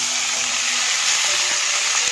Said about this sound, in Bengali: ফ্লেমটা লো রাখবেন। দিয়ে দেব চাউমিন।